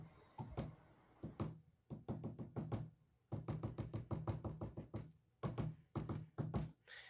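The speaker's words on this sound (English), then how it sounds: "is this a series of rhythmic different taps on a door" Series of rhythmic knocks and taps on a door, sounding in quick bursts with brief pauses between groups, close and clear with no talking.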